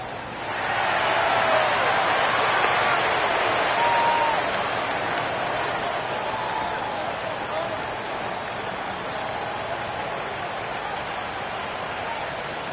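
Applause and cheering from an arena crowd at center court in NBA 2K25, a steady broad wash that swells in the first few seconds and then holds at a slightly lower level throughout, with no talking over it.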